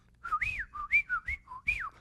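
A person whistles an imitation of R2-D2 droid beeping: a quick string of about eight rising and falling chirps in under two seconds, fairly faint and close.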